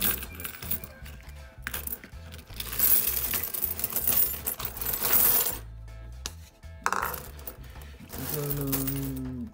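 Coins clatter and jingle as they are poured into a plastic scoop bowl, with bursts of metallic rattling, brief pauses and a final settling clink, heard up close.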